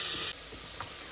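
Hyacinth beans (avarekalu) fry in a pan with a loud, continuous sizzle and hiss. The sound drops slightly partway through, and a few soft stirring clicks come through with no voices.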